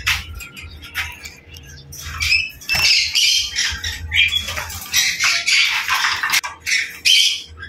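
Finches squawk and chirp in an aviary, a busy, loud, close cluster of overlapping sharp calls in irregular bursts.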